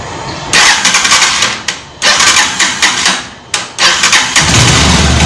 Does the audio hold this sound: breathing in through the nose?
no